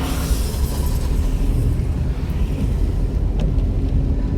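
Manual car engine picking up revs as the learner driver accelerates after a gear change during a driving lesson, a steady close low rumble mixed with wind noise, with no voices.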